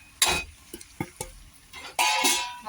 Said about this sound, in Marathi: असं परतून घेऊ कच्चा पण निघू दे मसाल्याचा